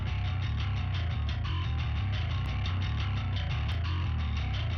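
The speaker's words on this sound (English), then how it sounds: "I might add micro shift to do sort of a chorusing effect" Bass line played through a micro shift chorusing effect in a mix, with a dense, steady, wide tone that carries on evenly and loudly throughout, with no voices.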